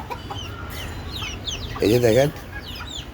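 Desi chickens kept in an open rooftop space give a short burst of loud, close clucking in the middle, with softer chirps and bird calls around it and someone speaking briefly over the scene.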